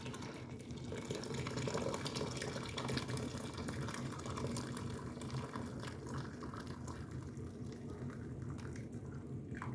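Boiling water pours steadily into a jar of banana peppers for pickling, a continuous bubbling, gurgling stream close by, with no talking.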